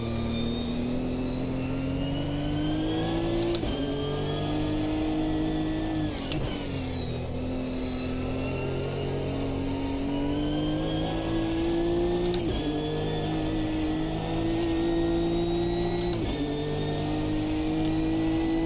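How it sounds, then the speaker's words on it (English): A GT3 race car in the sim racing game Automobilista 2 revs steadily at high rpm during a night league race, with brief dips at each gear shift, loud and continuous with no talk over it. "Probably my favorite car in GT3 category in Automobilista."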